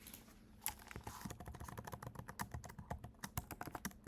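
Quick, steady typing on a computer keyboard during a coding session, with dense clicky keystrokes that are close but quiet and come in uneven bursts, with no speech.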